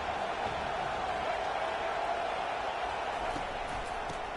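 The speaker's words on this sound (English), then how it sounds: "listen to this crowd roar" Crowd roaring at a college football stadium, BCS versus UCLA, a dense, steady wash of distant cheering that holds level throughout without clear breaks.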